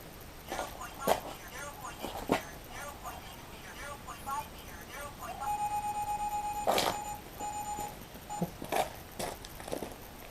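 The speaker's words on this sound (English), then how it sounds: "I think I'll go with the beeping rather than the irritating female voice" Short electronic beeps sound in an irregular pattern, including a sustained tone, while a person talks quietly nearby.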